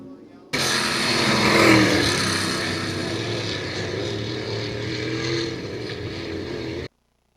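305 sprint car engines roar at Attica Raceway Park on a restart, a loud, continuous wall of revving engine noise that swells early, holds steady and then cuts off abruptly, with a race announcer talking over it.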